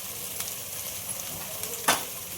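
Ground spices for a Maharashtrian baingan masala being stir-fried in a kadhai: a soft, steady sizzle with a light scrape of the spoon near the end.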